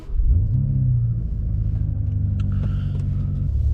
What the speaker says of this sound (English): So let's go, start the engine.